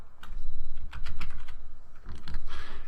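Rapid typing on a computer keyboard, close and fairly loud, in quick bursts of key clicks with brief pauses between runs and no voices.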